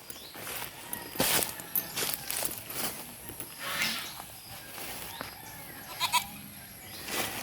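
Goats bleating on a grassy farm, several short cries near and farther off scattered among rustling and footstep-like movement, moderately quiet with no speech.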